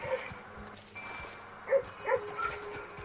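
A dog in the video game Red Dead Redemption 2 whimpers and yips in a few short, pained, high cries over quiet game ambience and background music.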